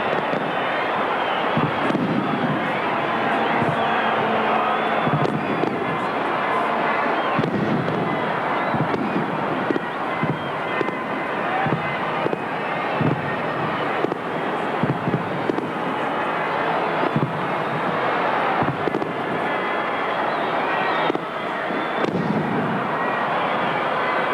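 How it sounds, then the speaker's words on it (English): Fireworks in black and red at the opening of the 1985 VFL night grand final at VFL Park, Hawthorn against Essendon: a dense, continuous barrage of bangs and crackles over a loud, roaring stadium crowd, heard throughout. "now the fireworks presented by Foster's in the traditional black and red colours of"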